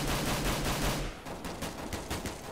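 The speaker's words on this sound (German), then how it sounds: "Ja, auf mich schießt er wieder, der Penner." Rapid enemy gunfire in CS:GO crackles in dense repeated bursts throughout, fairly loud and continuous, slightly thinning after the first second.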